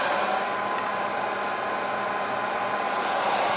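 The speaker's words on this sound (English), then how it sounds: "So we're going to turn this on. We're going to kick it on high heat." A Wagner Furno 500 heat gun runs on its high heat setting, giving a steady, loud broadband blowing hiss with a fan whir that holds even throughout, close to the mic and with no talk.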